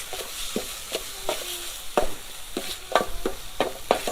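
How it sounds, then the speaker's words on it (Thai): Green curry paste stir-fried in oil sizzles gently in a pan, with a spatula scraping and stirring in an uneven rhythm of soft strokes. "ตอนนี้เราก็เอาเครื่องแกงลงไป ผัดไปกับน้ำมันครับ"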